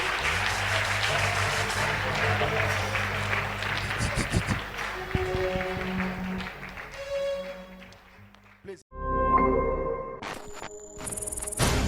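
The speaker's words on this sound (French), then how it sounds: "L'église acclame très très fort le Seigneur Jésus-Christ." A church congregation applauds and cheers loudly, dense clapping and shouting filling the space, with bursts of music and crowd noise, a brief drop near the end before the sound swells again.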